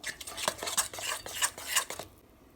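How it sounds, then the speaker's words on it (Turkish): A utensil stirs karnıyarık sauce for a crispy eggplant börek in a bowl, giving quick, close, repeated clinks and scrapes against the dish that stop after about two seconds. "Şimdi bunu güzelce iyice karıştıracağım."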